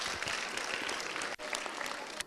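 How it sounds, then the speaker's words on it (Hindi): A short, dense burst of audience clapping fills the room, steady and fairly full for a couple of seconds with only a momentary dip partway through. "जोर से तालियां इनके लिए एक बार।"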